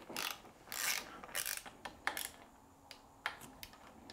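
A torque wrench tightens a through axle on a new Cairn bike to 10 Nm. Several quick, close ratcheting clicks and rasps come in short bursts, separated by brief pauses and a few lighter ticks.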